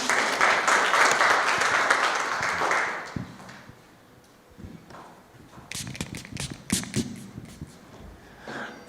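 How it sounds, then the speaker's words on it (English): An audience claps for Angela Mayo at an International Day of the Girl Child celebration, a loud burst of applause for about three seconds, then it thins into scattered claps and shuffling noises. "Please clap for Angela Mayo."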